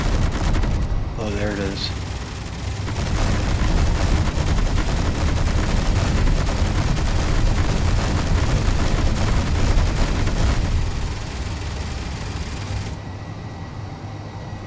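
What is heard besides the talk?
gunfire in the video game Space Engineers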